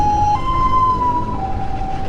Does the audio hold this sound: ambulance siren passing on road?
yes